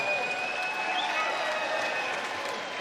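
A crowd at a live boxing event applauds and cheers in a steady, sustained wash of clapping and shouts that fills the whole stretch without a break.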